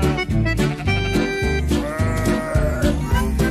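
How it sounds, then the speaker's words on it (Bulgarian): Sheep bleat loudly and continuously, with many overlapping wavering calls following one another with no pause. "Къде са тези овце?"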